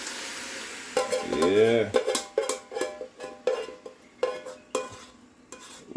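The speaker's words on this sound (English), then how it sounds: "Yeah, just a little stir fry." Squirrel curry being stir-fried with onion and seasoning in a pot: a spoon scrapes and clanks against the metal in a steady run of sharp strokes over a soft sizzle, with a brief spoken word.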